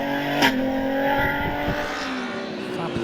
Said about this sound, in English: Fabulous sounding V6.